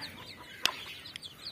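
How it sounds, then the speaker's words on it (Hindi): A desi country hen clucks softly beside her eleven newly hatched chicks, with a few faint, high peeping chirps and a sharp click standing out from a quiet background. "कितने 11 बच्चे दिए हैं इस मुर्गी ने"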